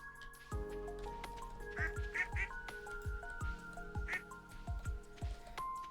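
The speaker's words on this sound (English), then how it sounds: "Baby goose." A baby goose in the farming video game Stardew Valley gives several short, bright honks and quacks over a soft game backdrop of plucky, droplet-like tones.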